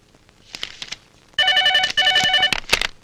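A telephone rings in a dramatic film scene, two loud, harmonic electronic ring bursts after a few soft knocks, ending with a couple of sharp clicks.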